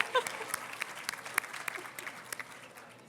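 Light, scattered handclaps from a small audience at an awards dinner, a few sharp claps standing out over a quiet room murmur.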